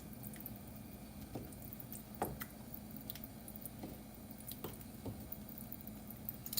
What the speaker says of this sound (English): It's starting to bubble, so I'm going to stir it a little bit.